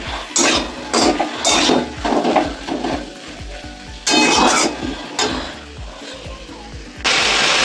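Cumin seeds and vegetables fry in hot oil in a kadai with loud bursts of sizzling that start and stop. Stirring scrapes and metal clinks come between the bursts.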